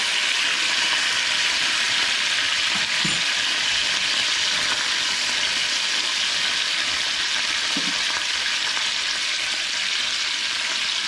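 Ham simmering in barbecue sauce in a pan: a constant, even hiss of sizzling that holds steady throughout, close and fairly loud, broken only by a couple of faint knocks, with no talking.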